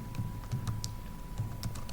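Rapid keystrokes on a computer keyboard while an SQL query is typed, a quick irregular run of light clicks at close range over a faint steady hum.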